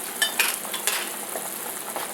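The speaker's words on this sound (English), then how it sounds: "the soup's been in a rolling boil" Beef dumpling soup bubbles at a rolling boil in a pot, making a continuous close crackling, sizzling churn with a few faint clinks near the start.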